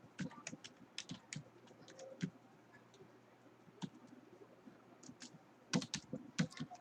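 Python code being typed on a computer keyboard, quick irregular bursts of clicking keystrokes with short pauses between, close but quiet.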